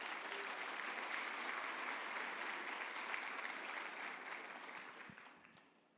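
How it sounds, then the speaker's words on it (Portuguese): A church congregation gives a sustained round of applause, a broad, even roar of many hands clapping with faint voices beneath, tapering off at the end. "Vamos aplaudir o Senhor Jesus."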